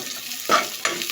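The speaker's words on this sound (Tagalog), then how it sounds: "Ginigisa ko lang yung bawang, sibuyas at saka luya." Garlic, onion and ginger hit a hot pan with two short sizzling stirs, close and crisp; no talking.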